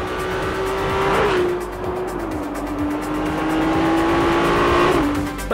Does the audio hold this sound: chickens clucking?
no